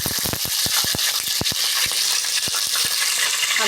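Green chillies and cloves fry in hot oil in a pan while biryani is being cooked, a steady loud sizzle punctuated by many sharp crackling pops and spits, dense at first and then spaced apart.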